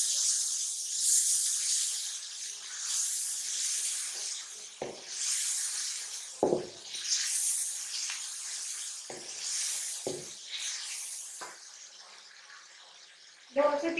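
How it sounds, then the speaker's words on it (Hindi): Peas sizzling as they roast in masala in a pan for moong dal, a steady hissing fry throughout with a few soft clinks of stirring. "ये हम इसमें मटर शामिल कर देंगे और मजीद थोड़ा सा मटरों को भूनेंगे"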